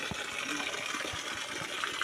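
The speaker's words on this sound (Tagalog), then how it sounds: "So, yan tubig na yan. Tingnan nyo. Galing sa ilalim yan." Water seeping up from underground at a dig site for a buried treasure bunker gives a soft, steady trickle and gurgle, faint and continuous for about two seconds with no talking.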